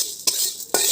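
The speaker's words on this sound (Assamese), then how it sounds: "এইখিনি এখন শুকান কেৰাহীত মানে তেল চেল নিদিয়াকৈ ভাজি ল'ম ধুনীয়াকৈ" Cumin and coriander seeds dry-roasted in a pan without oil, with two sharp scraping strokes of a spatula over a continuous close, bright crackling hiss.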